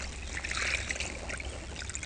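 Water trickles and pours steadily as a sampling net is rinsed at a stream during an aquatic invertebrate survey, a continuous close splashing wash with no voices.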